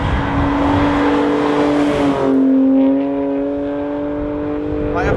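A Ferrari V12 drives with a sustained, loud engine drone that climbs in pitch, then shifts to a higher gear note and settles as the car cruises on, heard close from inside.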